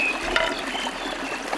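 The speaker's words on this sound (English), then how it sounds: "See how the water is flowing." Fast-flowing river water swollen by heavy rainfall at Chabimura, a continuous rushing and trickling wash heard close by and fairly loud, without talking.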